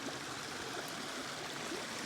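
A creek flows in a steady, soft wash of rushing water, with no voices.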